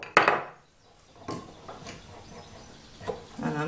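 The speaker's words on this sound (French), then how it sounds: "Quand on a percé avant, il n'y a plus grand chose à enlever, donc c'est dans les cordes d'un ciseau à bois affûté." A sharpened wood chisel cuts through a pre-drilled hole in a wooden workpiece, giving a sharp strike followed by a few quieter scraping and tapping knocks, close and fairly soft.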